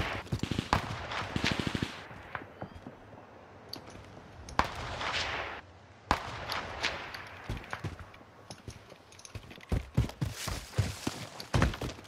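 Video game gunfire rings out as scattered sharp cracks and short bursts, fairly faint and distant, with soft footstep-like thuds between them and no clear talk.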